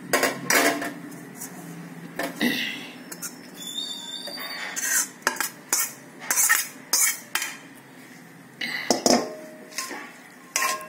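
A spoon mixes cooked rice into lemon juice in a metal vessel, sounding as irregular close clinks and scrapes with short pauses between strokes.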